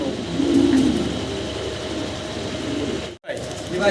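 Female Chinese nasal pigeons give a short, low coo close by, while someone talks over them and faint mechanical rattling sounds in the background.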